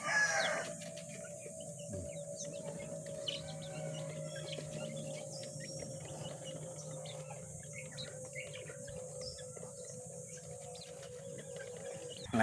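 Chickens cluck and a rooster crows around feeding time outdoors, a low continuous flock murmur with scattered calls at moderate distance, carrying steadily throughout.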